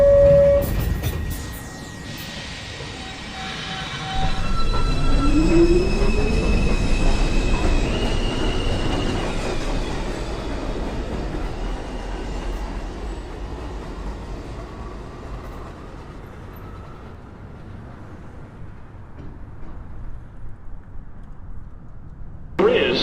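A New York subway 2 express train moves through a station, loud rumbling and rising motor whine as it approaches, then wheels squealing and clattering before fading down, with brief tonal signals early on.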